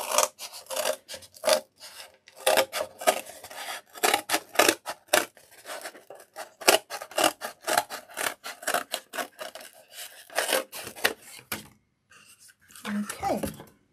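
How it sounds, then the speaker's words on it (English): Scissors cutting an extra wing off a paper or card craft piece, a long series of close, rapid snipping and rasping strokes in uneven bursts, with a voice talking at times. "So let's just cut that wing off."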